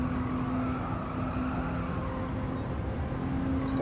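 Race car engine in Gran Turismo 7 at the Tokyo East circuit, a steady loud droning hum held in seventh gear with no clear revving change, continuous and alone.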